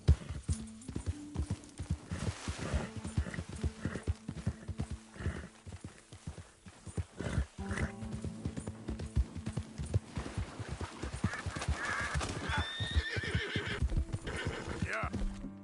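A horse in Red Dead Redemption 2 gallops with loud, close, rapid hoofbeats, broken by a couple of whinnying neighs, the rhythm rising and falling as it runs.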